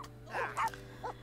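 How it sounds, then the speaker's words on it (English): Dogs bark a few times in The Sims 4, short, soft yips over a steady low hum, fairly faint, with no talk. "he complained about the barking dogs"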